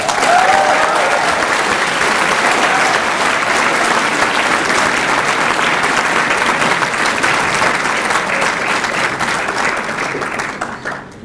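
Loud, sustained applause from a large audience at a college conferring ceremony, dense and continuous for about ten seconds before tapering off at the end.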